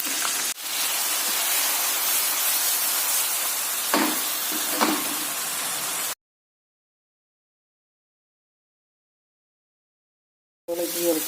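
Fish sautés in hot oil in a pan, a steady broad sizzle and hiss lasting several seconds before cutting to silence, then briefly returning.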